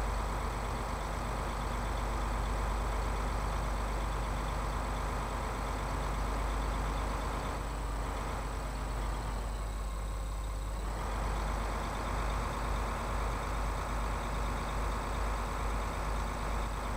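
Tractor engine in Farming Simulator 2015 labours at a steady low drone while hauling a heavy trailer and losing speed, the continuous rumble shifting slightly in pitch midway.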